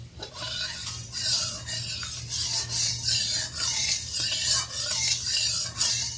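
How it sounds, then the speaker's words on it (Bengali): A spatula scrapes and spreads oil around the sides of a wok while pointed gourd is readied for frying, giving a steady close rasping and rubbing with repeated strokes. "খুন্তি দিয়ে কড়ার গায়ে তেলটা ছড়িয়ে দিলাম"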